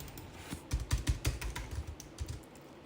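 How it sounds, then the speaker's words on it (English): Rapid, uneven clicks of typing on a computer keyboard, close and clear, with bursts of keystrokes and no talking. "you can just hit the letter T on the keyboard"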